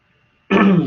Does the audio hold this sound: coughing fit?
yes